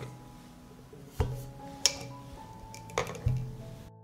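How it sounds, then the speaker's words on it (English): Glass jars are set down into a deep cooking pot lined with a cloth, giving a few soft, separate knocks and clinks in a quiet room. "I put the jars in the pot."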